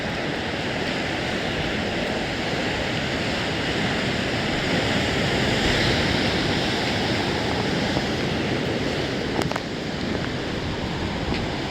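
Steady broadband roar of sea waves crashing and throwing up spray along the rocky coast at Harihareshwar, continuous and fairly loud throughout, with a brief knock near the end.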